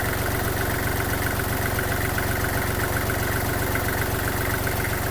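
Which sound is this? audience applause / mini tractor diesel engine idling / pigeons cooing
mini tractor diesel engine idling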